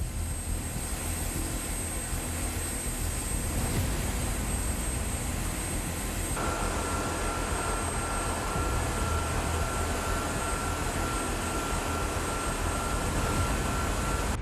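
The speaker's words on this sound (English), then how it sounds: "A massive cargo plane touches down carrying an AH-64 Apache." A large military cargo plane touches down with an AH-64 Apache helicopter aboard, giving a steady, loud engine roar and broadband rumble that holds throughout with no talk.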